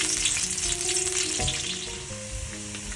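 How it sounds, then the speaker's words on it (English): Garlic and a cinnamon stick fry in oil in a pan, giving a steady, close hiss and crackle with faint utensil clinks, no voices. "I'm going to add in the cinnamon stick and the garlic, and just let it cook until the garlic is slightly brown"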